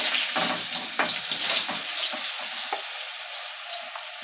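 Potatoes frying in a pan give a close, bright crackling sizzle with a few stirring knocks, steady and fairly loud, fading slightly toward the end.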